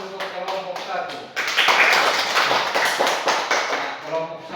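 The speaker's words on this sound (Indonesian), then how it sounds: "Kita beri tepuk tangan untuk kelompok 1." A classroom of students claps for the first group in a sustained burst of applause, with a teacher's voice talking before and after it.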